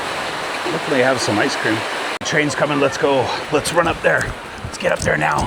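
Heavy rain pours near the Nine Arch Bridge in Sri Lanka, a constant broadband hiss running beneath people talking excitedly throughout.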